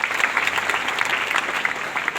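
An audience applauds in a steady, dense burst of clapping that fills the whole moment, cheering on children at an event, with no voices heard above it.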